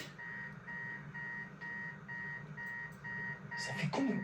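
A steady electronic alarm in the video game Spider-Man 2 beeps in an even repeating rhythm, fairly faint, with a brief clatter of noise at the end.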